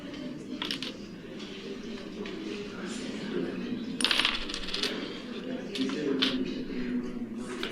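Several coins dropped and jingling as they are handed over for postage, bright metallic clinks scattered in bursts over a few seconds, close, amid rustling and background murmur.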